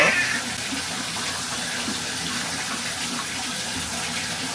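Bath water runs steadily from a tap into a tub while a young child is being washed, a loud, continuous rushing splash with no speech.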